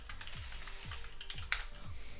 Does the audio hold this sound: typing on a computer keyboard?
yes